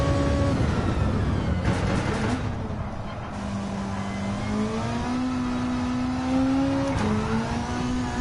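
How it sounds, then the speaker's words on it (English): Car engine in Gran Turismo 7 on soft tyres, revving steadily with rising and falling pitch as it drifts around a corner in second gear, loud and continuous with no talking. "Apparently we are drifting around the corner."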